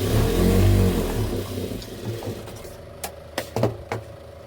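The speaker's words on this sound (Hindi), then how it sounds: "तो हमारा इस तरह से पक्की सिलाई हम लगा लेंगे।" A sewing machine stitching the waistband of a blouse: a steady motor whir at first, which slows and gives way to a few sharp mechanical clicks and taps nearby.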